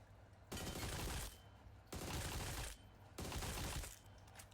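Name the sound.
gunfire from a weapon in PUBG Mobile video game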